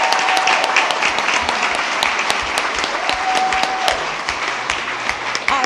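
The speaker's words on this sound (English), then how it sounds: "We can give the elementaries a round of applause" Audience at a school board meeting applauding elementary students, a loud, dense round of clapping from a crowd that stays steady throughout, with a faint tone and murmurs beneath.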